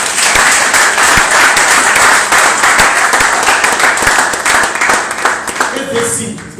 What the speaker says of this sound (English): Can't you clap for that person?